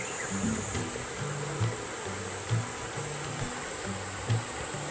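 Insects buzz inside a Japanese farmhouse, a close, wavering drone with a high whine on top, pulsing in short uneven bursts.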